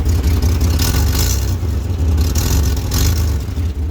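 A 2000 GMC Jimmy SUV engine with a cylinder 2 misfire runs loudly and unevenly nearby, its rumble surging in rough pulses with a rattling, uneven idle throughout.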